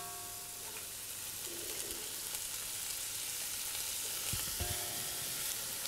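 Green vegetables such as peas, broad beans and artichokes sauté with chopped shallot in a pan, giving a steady, moderately loud sizzle that runs throughout with a few light stirring clatters and no talk.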